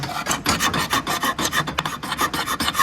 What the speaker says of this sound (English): I should be able to press hard enough on this that I am pulling up wood as I come across